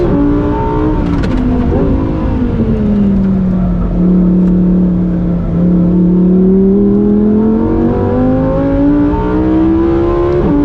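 A 2023 Lamborghini Huracan Tecnica, a mid-engine rear-wheel-drive car, drones steadily from close inside the cabin as the engine pitch dips and then climbs again while driving, loud and continuous, with no talk.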